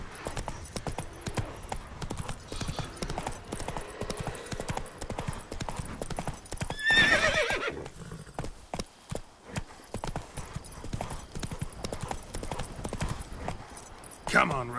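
Horse hooves clip-clop steadily through The Witcher 3 game world, joined by a brief whinny midway, with a voice speaking over the ongoing game sounds and music.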